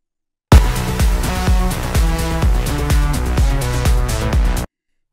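A bright synthesizer lead plays a rhythmic, punchy pattern over a steady beat, continuous for several seconds before cutting off abruptly.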